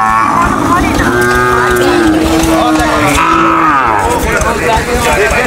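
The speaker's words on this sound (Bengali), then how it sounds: "আরো একটা দেশাল জাতের বকনা গরু দেখা যাচ্ছে।" A desi-breed heifer at a busy Bogura cattle market lows in long drawn moos, one after another, loud and close above the crowd's chatter and background noise.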